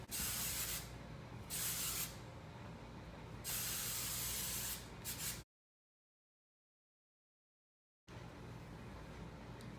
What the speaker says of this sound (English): I'm gonna spray that under section with hairspray.